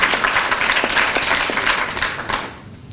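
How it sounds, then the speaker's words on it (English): An audience at a Caribbean American Heritage Month breakfast applauds steadily, with many hands clapping at once in a dense, loud burst that fades toward the end. "Let's give him another hand of applause for his job as a journalist."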